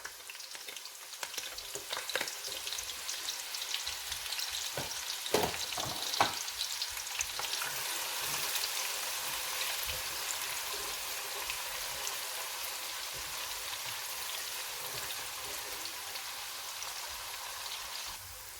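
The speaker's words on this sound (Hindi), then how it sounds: "अब हम इसमें ओनियन ऐड कर लेंगे और इसको हल्का सा फ्राई करेंगे।" Chopped onions fry lightly in a pan for haleem, a dense continuous crackling sizzle like rain on a surface, with sharper spatters and stirring scrapes early on, then settling into a steady close hiss with no talking.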